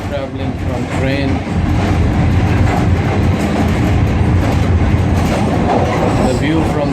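A train runs along the railway track in Karachi, a loud, close, continuous rumble with rattling wheel noise. People talk over it throughout.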